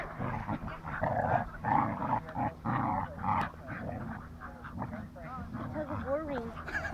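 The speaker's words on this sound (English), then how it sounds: "He'll totally growl at her if she wins." A dog growling during a tug-of-war game, low rumbling growls in several bursts interleaved with whimpery grunts, close and fairly loud, with people talking nearby.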